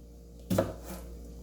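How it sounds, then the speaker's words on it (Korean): A single sharp knife chop on a cutting board as carrots are diced slightly smaller than kkakdugi cubes, one close, clear strike with a faint lighter tap after, otherwise quiet. "당근을 깍두기보다 조금 잘게 썰어서"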